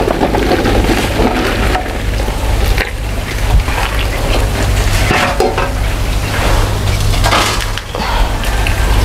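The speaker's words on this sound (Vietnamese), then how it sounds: "Cái nồi mắm của mình nó cũng sôi dữ lắm rồi." A giant pot of vegetarian fermented-fish hotpot with tofu, lemongrass, mushrooms and eggplant boils hard while being stirred, giving a loud, continuous churning bubble with scraping and clattering stir strokes throughout.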